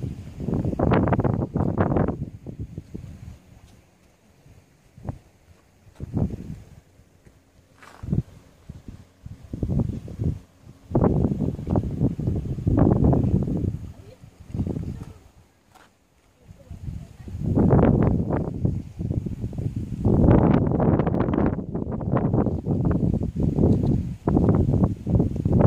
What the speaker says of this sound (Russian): Камеру трясет ветром.